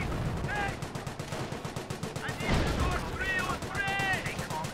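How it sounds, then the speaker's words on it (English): Rifle and machine-gun fire from the Company of Heroes strategy game, a dense stream of sharp cracks and bursts running throughout, with voices and game sounds mixed in. "a lot of rifle fire here"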